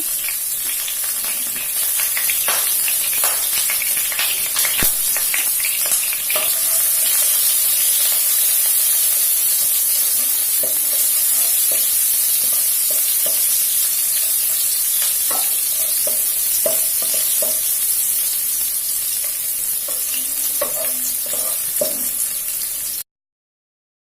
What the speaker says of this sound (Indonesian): panaskan minyak, kemudian kita tumis bawang merahnya.